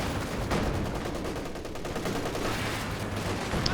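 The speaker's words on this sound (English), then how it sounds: "But MG suppressing everything here." Machine gun fire in the real-time strategy game Company of Heroes 2, a dense, continuous rattle of bursts with distant battle noise and no talk.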